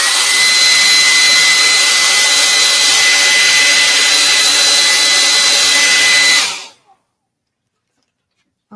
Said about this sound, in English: What I'm going to do is just use a dryer, a hair dryer.